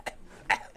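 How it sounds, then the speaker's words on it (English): A person coughing twice, two short harsh bursts about half a second apart, close and fairly quiet with no talk over them. "You hear a motherfucking coughing."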